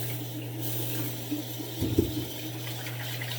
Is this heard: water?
yes